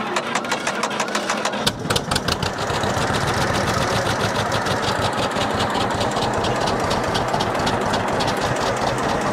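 A vintage John Deere tractor engine is cranked on the starter button, catches after a couple of seconds and settles into a loud, close, steady rhythmic idle that continues alone.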